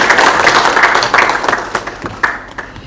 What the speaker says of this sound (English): Can you clap for them?